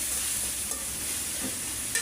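Ginger and garlic paste fries in hot oil for a pabda fish curry with potato and beans, a steady close hiss and sizzle with a couple of light stirring clinks, no voices.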